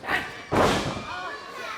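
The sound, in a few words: wrestling kick landing on opponent's back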